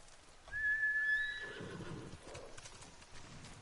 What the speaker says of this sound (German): Das ist ein braves Pferd